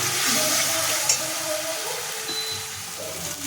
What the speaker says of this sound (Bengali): সেই সেদ্ধ আলুটা একটু মশলার সঙ্গে কষে নিলাম